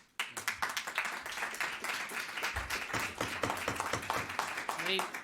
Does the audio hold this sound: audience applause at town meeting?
yes